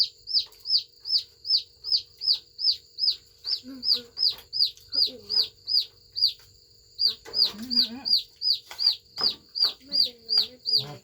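Chickens cluck in a steady, repeated rhythm, close and fairly loud, with a few low clucks and bird calls mixed in on a rural evening meal setting.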